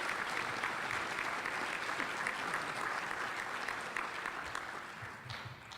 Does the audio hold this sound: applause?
yes